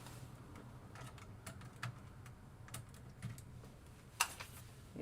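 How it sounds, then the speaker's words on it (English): Soft keystrokes on a small wireless keyboard from a keyboard-and-mouse combo, a steady run of light clicks with a few sharper taps, low hum underneath and no talking. "A little wireless keyboard and mouse combo for this."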